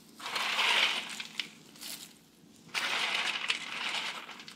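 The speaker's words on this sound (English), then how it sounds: "The bread, as you can hear, do you hear that? It should be quite dry." Dry bread for vegan holiday stuffing is crushed and broken by hand, giving two bursts of close, crisp crackling and crunching with a softer rustle between them.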